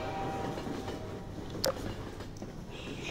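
A train interior in the horror game Transmission Element 120, a steady low rumble with one sharp metallic clank partway through, and no talking.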